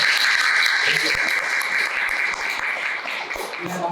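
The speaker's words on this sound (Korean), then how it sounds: "큰 박수로" Audience applause at a Korean lecture about waste and recycling as the guest speaker is welcomed, a steady dense wash of clapping that holds for the whole stretch with slight dips.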